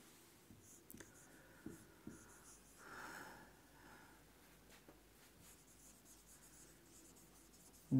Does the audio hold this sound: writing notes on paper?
yes